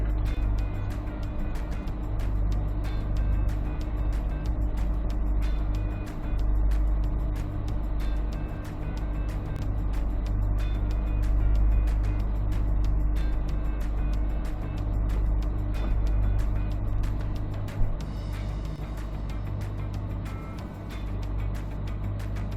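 C8 Corvettes roll out together for a track session at a performance driving school, a steady low engine drone holding throughout with no voices over it.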